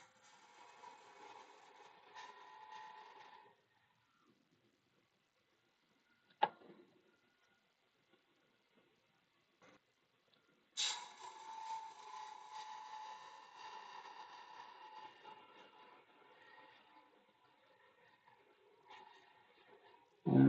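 A woodturning gouge chatters against a spinning workpiece on a lathe during a slightly heavy cut, giving two bursts of rough, rattling scraping separated by a quiet gap with a single sharp knock.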